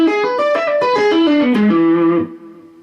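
An electric guitar with a distorted, effected tone runs up and down a dominant seventh arpeggio, single notes in quick succession ending on a held note that fades out, played alone.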